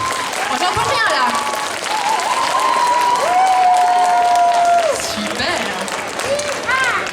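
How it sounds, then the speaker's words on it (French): Loud, continuous applause with cheers and whistles greets a contestant at a cosplay contest convention, with a voice briefly speaking over the crowd noise. "Sous vos applaudissements, s'il vous plaît."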